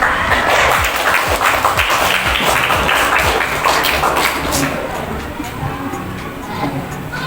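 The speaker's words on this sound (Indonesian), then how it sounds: "Ya, tepuk tangan untuk jawaban dari kelompok Puna." A crowd claps steadily in dense applause that thins slightly toward the end, with some murmuring voices mixed in.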